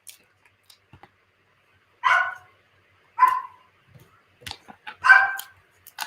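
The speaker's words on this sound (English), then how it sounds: "My dog's decided she's going to bark." A dog barks indoors, giving three or four short sharp barks spaced a second or so apart, moderately close, with faint small noises between them and no talking.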